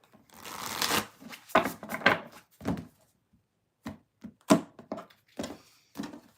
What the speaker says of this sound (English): Quick little shuffle.